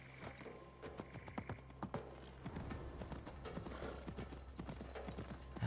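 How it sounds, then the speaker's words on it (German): Horse hooves clip-clop at a steady trot in the video game Assassin's Creed Mirage, with rhythmic, fairly quiet hoofbeats over a faint background ambience and no voices. "Ah, das Pferdchen gehört mir."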